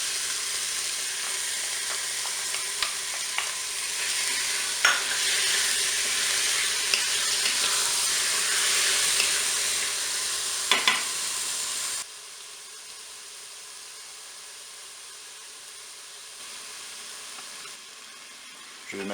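Onions and chicken brown in a Cookeo multicooker, giving a steady sizzle with faint crackles and occasional stirring taps, then quieter, softer sizzling in the later part.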